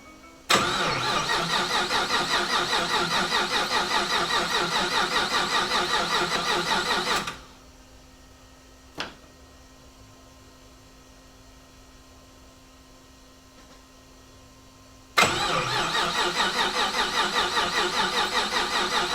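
An LS-swapped Ford Mustang S550 cranks on its first startup attempt, the starter churning in a loud, rapid rhythmic whir for about seven seconds, then a quiet pause with a click, then another long, loud cranking run that does not catch.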